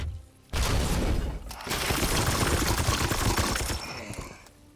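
Support-fire gunfire in the turn-based game Warhammer 40,000: Chaos Gate - Daemonhunters, a sudden loud burst of rapid shots and crashing impacts, a brief lull, then a sustained barrage that tails off near the end.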